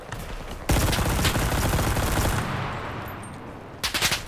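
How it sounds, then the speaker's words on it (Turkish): Soviet submachine guns firing in the multiplayer war game Enlisted: a loud, dense continuous burst of rapid automatic fire that starts abruptly and fades into a rumbling tail, followed by a short second burst. "Şu gerçekten Sovyet SMG'leri var ya, muhteşem ya."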